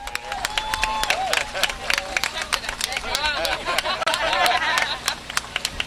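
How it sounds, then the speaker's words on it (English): An audience at an Immigrant Heritage Month reception gives presenters a round of applause: sharp, close claps mixed with whistles and lively chatter from the crowd. "Another big round of applause for our presenters and our immigrants for today."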